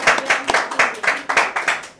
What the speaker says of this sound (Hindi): और एक बार और ताली बजाना चाहूँगा